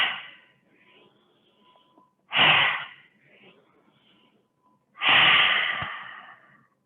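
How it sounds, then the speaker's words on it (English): Deep, strong breaths during a vinyasa yoga stretching session: a fading exhale, then two long, loud, airy breaths a few seconds apart, close to the mic with quiet gaps between. "Okay, so you're going to breathe in, exhale."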